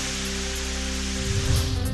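Pre-monsoon rain pours down in Buldhana district, Maharashtra, amid thunder and gusty winds, a steady, dense hiss that runs without pause over a low constant hum, with no voices.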